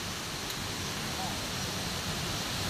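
Sindang Gile waterfall on Lombok roars as a dense, constant broadband rush of falling water, steady and loud with no breaks and no voices over it.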